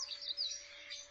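A finch chirps in a pet shop among other birds and fish. Faint, high twittering runs throughout with rapid repeated chirps, heard alone with no talk over it.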